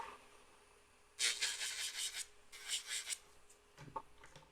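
Hand file rasping across acrylic coffin nails, smoothing out bumps and lines, in close, steady strokes that come in two bursts of scraping with a brief pause between them.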